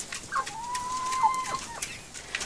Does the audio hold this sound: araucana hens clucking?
yes